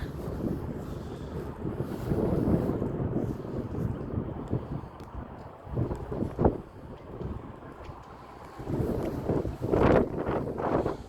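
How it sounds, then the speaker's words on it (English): Wind gusts outdoors at an old, unused school building and buffets the microphone, with rumbling surges that swell and fade and a sharper burst near the end. No voices are heard. "As you can tell, it's a little windy out here today."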